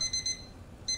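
A horror video game alarm beeps in short high-pitched electronic pulses, two quick pairs then a gap and another pair, sharp and clear over a low background hum.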